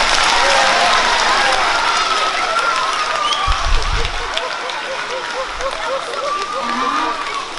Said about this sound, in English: Guys, let's give them a huge round of applause.